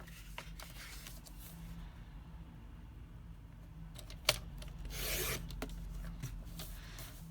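Scissors or a paper trimmer cutting sheets of paper for wallet envelopes, a soft rasping slice with a sharp click and a brief louder swish, close and quiet in a still room.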